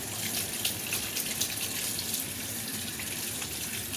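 Water runs steadily from a tap during washing, a constant close hiss and splash with faint irregular spatter throughout and no voices.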